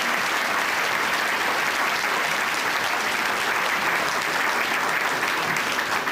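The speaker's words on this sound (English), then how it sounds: "They're really the people who deserve a round of applause from all of you" An audience at a public address by the Illinois Attorney General breaks into dense, sustained clapping that fills the whole stretch steadily with no voices over it.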